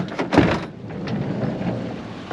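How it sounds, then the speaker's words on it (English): Heavy rain pours steadily at an outdoor skatepark, a dense close hiss filling the whole stretch, with a brief louder thud or gust near the start. "it's raining like crazy!"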